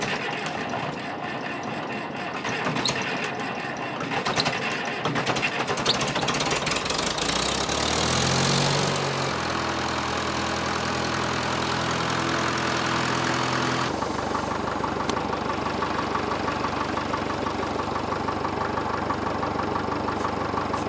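A tractor engine cranks and catches, then settles into a steady, rumbling idle that runs on evenly close by.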